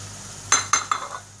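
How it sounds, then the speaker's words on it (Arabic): Chicken breast with onion and pepper stirred in a pan, three quick scraping strokes of a utensil over a low background sizzle. "تنخليوه غلفه، تنحركو مره مره باش ما يلصقش"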